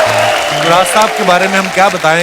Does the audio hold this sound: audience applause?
yes